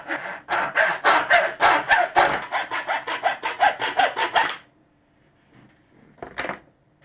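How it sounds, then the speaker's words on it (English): A hacksaw cuts through the front mudguard of a Moto Guzzi V7 in about fifteen quick, rhythmic rasping strokes. It stops partway through, and after a pause comes one short scrape. "get the hacksaw again, drop this across here"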